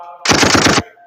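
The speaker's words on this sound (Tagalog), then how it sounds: "May barilan." A loud, rapid burst of machine-gun fire, roughly half a second long, played as a sound effect from a laptop, with no voices over it.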